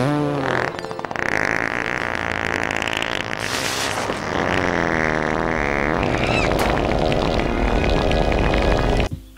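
Comedic fart noises played back as a studio radio-show segment, a dense run of loud, sputtering, buzzy blasts of varying pitch and length filling the whole stretch, with no talking over them.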